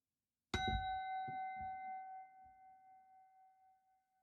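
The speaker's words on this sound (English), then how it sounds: "There'll be one bell to signify the beginning" A single meditation bell is struck once, ringing clear and close with a long, slowly fading shimmer that hangs alone in the silence.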